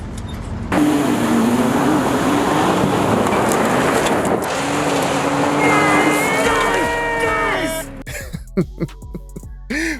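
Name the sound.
Ram 1500 Hurricane pickup truck engine sound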